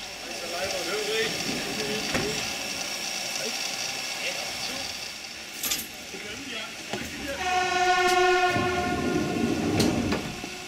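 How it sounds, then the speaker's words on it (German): Narrow-gauge railcar from Nordhausen on the Selketalbahn approaching, a distant rumble growing nearer with a sustained multi-tone horn sounding loudly, while someone speaks over it. "Der Triebwagen aus Nordhausen kündigt sich an."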